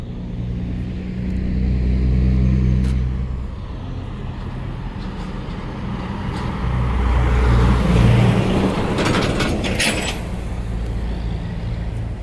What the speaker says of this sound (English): there's a lot of truck traffic through here